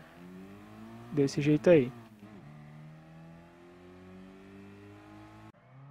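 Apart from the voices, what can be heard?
weak car accelerating in racing video game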